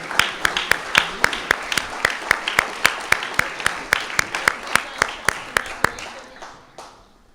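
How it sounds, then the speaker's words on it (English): At an R&D award ceremony, a crowd applauds an award winner with steady, evenly spaced clapping that sounds like slow rhythmic unison claps. The clapping is moderately close and fades out at the end, with faint talk underneath. "another round of applause"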